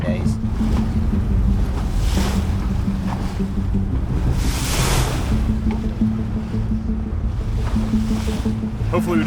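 A sailboat heads out into the Caribbean Sea through waves, with steady wind and water rush, engine-like rumble and splashing surges. Someone talks over the noise.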